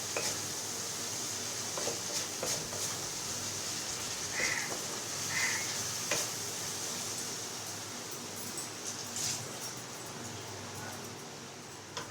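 Chicken curry spice paste of red chilli powder and turmeric fries in a pan while being stirred, making a steady, fairly soft sizzle with occasional scraping and clinks of a utensil against the pan.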